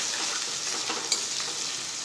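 Tomato being stirred into poha masala in a pan, with a steady close sizzle and soft scraping strokes running throughout and one sharper clink near the middle.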